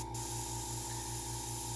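An airbrush sprays in a steady continuous hiss over a low pulsing compressor hum, close and even throughout the short stretch.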